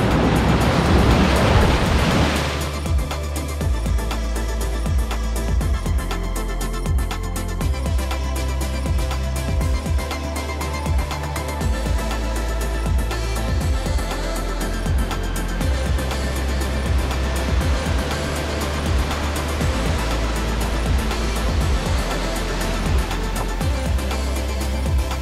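High ocean waves crash onto a rocky shore in Manuel Antonio National Park, Costa Rica, a continuous loud roaring wash of surf with rumbling low end and hissing spray, no voices.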